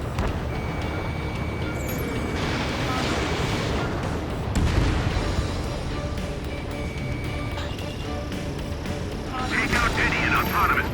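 Gunfire in Ace Combat 7: Skies Unknown: loud, continuous roaring combat noise with thudding shots and blasts, and a brief high beeping tone, while voices talk over the action.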